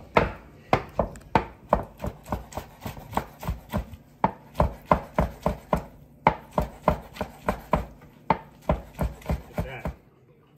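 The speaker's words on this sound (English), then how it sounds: "Chopping morels, chopping morels." Rapid, rhythmic knife chops through morel mushrooms against a cutting board, about two strokes per second, with brief pauses between bursts.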